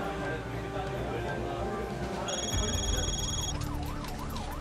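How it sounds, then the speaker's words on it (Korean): A Gangnam fire station rescue vehicle races to a subway emergency, its siren wailing and rising and falling in rapid yelps over loud road noise, with a steady electronic tone and background voices. "강남 소방서 현장 구조 차량이 긴급 사이렌을 울리며 지하철로 긴급 출동합니다"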